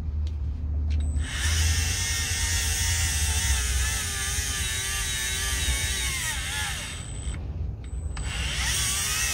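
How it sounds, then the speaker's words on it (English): A Navac NEF6LM battery-powered flaring tool flares copper pipe with a close, steady motorized whir and grinding hum, its pitch shifting as it works, then slowing near the end, with small clicks at start and finish. "All we do is push that button and we wait till the machine is done flaring."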